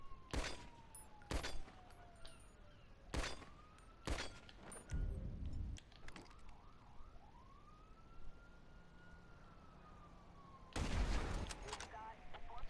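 Explosions and bursts of gunfire from a PS4 video game played with cheat codes, several loud broadband blasts spread irregularly across the clip, with sweeping tonal game sounds between them.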